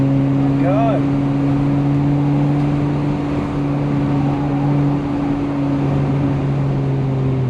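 A 1986 BMW E30 325ES car driving, a loud, steady engine drone with a constant low hum and road noise from inside the cabin, with a short high squeak early on.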